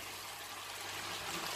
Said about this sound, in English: I've got a kettle of hot water. And I'm just going to cover it.